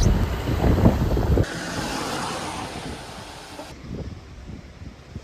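Strong wind on a rainy high-range hillside viewpoint in Idukki, buffeting the microphone in rumbling gusts, loud at first and easing somewhat toward the end.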